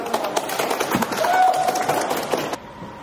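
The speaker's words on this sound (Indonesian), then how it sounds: "Oke, tepuk tangan." A class of students claps hands together in a classroom during a vocational automotive lesson, a dense, steady patter of many hands close by that stops abruptly near the end, leaving quieter room noise.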